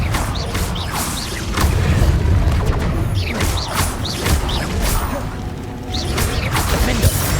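Spell blasts including the Confringo fire curse go off in a Hogwarts Legacy battle, a rapid series of loud whooshing impacts and crashes layered with combat effects and shouted spell names.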